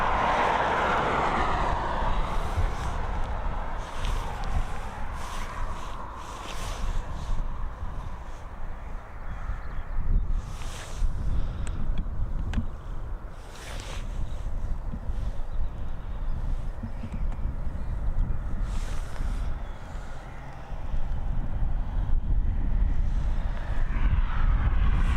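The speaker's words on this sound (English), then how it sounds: "There is that beautiful 787 Dreamliner just pushing back." A Boeing 787 Dreamliner pushes back at Dublin Airport, its engines a steady low rumble under wind buffeting, with occasional crow caws in the distance.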